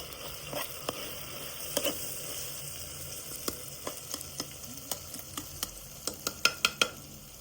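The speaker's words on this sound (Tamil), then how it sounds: "கத்திரிக்காய் வெங்காயம்லாம் போட்டு இது வேகணும், வீட்டு வதக்கணும்" Brinjal and onion stirred and sautéed in a pan for kaara kulambu, with a steady low sizzle and irregular scraping clinks of a spoon against the pan that grow more frequent toward the end, fairly close and with no talk.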